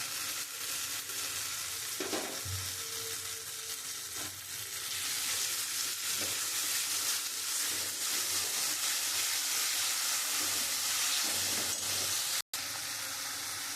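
Spice masala with yogurt sautéing in a pan for a Bengali doi rui-style fish curry, giving a steady, close frying sizzle with soft stirring scrapes throughout and no talk.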